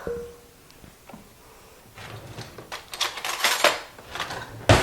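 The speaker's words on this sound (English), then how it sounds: "Should take about 2 minutes to whisk this into a pudding consistency." A whisk clatters against a bowl while lemon pudding mix is stirred, starting with faint scattered clinks and building into quick, rhythmic metallic scraping and tapping that grows louder toward the end.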